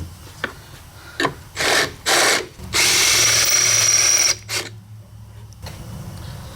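A power drill bores out stripped holes in a KTM motorcycle subframe, several short whirring bursts followed by a longer sustained grinding run, loud and close, with no talking.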